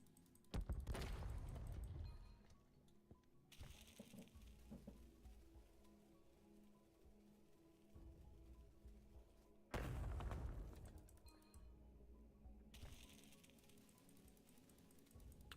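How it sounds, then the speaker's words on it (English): Two deep booming explosions from the video game Brighter Shores, each a loud low burst about eight seconds apart, followed by a rumbling tail over a steady ambient background. "I just wish the explosions went a little quicker."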